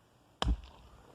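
A single sharp impact, a flashlight striking rocks with a short clatter and low thud, then quiet.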